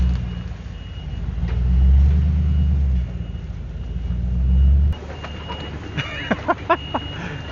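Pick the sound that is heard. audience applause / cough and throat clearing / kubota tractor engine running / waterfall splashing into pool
kubota tractor engine running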